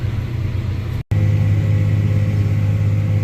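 A tractor engine runs with a steady, loud low rumble, cut by a brief dropout before resuming just as strong.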